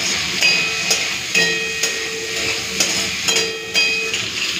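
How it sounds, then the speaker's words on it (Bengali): Okra fries in hot oil with salt and turmeric, making a continuous bright sizzle broken by regular spoon taps and stirring knocks that come roughly every half second. "ওই তেলে প্রথমে ঢেঁড়সগুলো ভেজে নিচ্ছি।"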